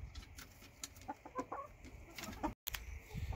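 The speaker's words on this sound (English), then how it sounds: "These chickens are having a little too much fun with their new nest." Several chickens cluck and murmur close by in a busy, continuous chatter, with scattered scratching and rustling around them.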